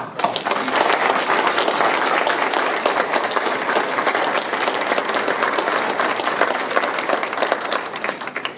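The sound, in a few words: audience applause for outgoing town council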